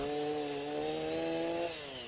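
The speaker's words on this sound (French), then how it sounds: "ici j'utilise une tronçonneuse style MS390" A chainsaw like an MS390 with a 45 cm bar roars up close with a steady high whine, then its pitch drops sharply near the end as it bites into wood.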